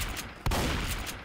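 A shotgun blast in the video game Left 4 Dead 2, one sudden loud report with a booming low-end tail over steady game noise.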